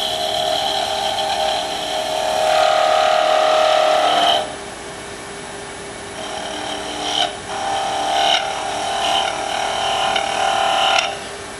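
Wood spinning on a lathe while a tool smooths the inside of a small bead on a turned top, a continuous high whirring hum with shifting scraping tone and brief pauses, loud and close, no talk.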